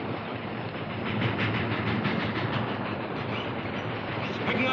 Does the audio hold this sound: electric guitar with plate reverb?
no